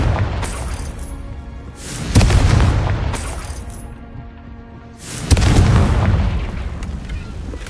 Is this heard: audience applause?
no